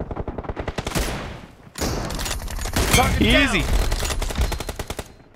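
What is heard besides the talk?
Groza rifle gunfire in video game BGMI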